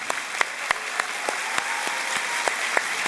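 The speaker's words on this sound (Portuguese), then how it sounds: "o pessoal te dá uma salva de palmas" A church congregation claps for an elderly mother standing in the pews, a broad sustained wash of applause with a few sharp individual claps standing out near the front.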